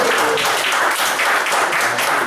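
Group hand clapping from a room of people at a sales training session, a steady, dense burst of applause that holds fairly loud throughout.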